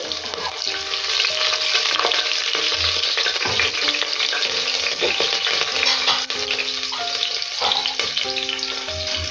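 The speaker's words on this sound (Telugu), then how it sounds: "అలాగే ఓ రెండు పచ్చిమిర్చి చీలకలు కూడా యాడ్ చేసేసుకోండి" Bay leaves and slit green chilies fry in a pan for mutton dum biryani, giving a steady, dense sizzle throughout with occasional soft clinks of a utensil close by.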